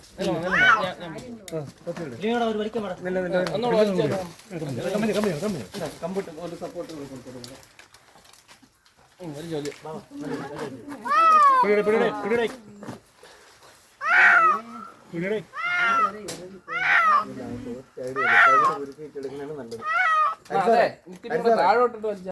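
A cat stuck among the branches of a rambutan tree in front of a house in Vithura, Thiruvananthapuram, gives several drawn-out meows, mixed in among nearby people talking at length.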